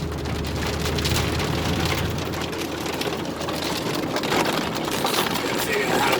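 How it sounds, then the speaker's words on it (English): Steady rain falling and pattering on surfaces outdoors, a dense broadband hiss that stays even for the whole stretch, with a faint low rumble underneath. "But of course it would be raining when they pick up."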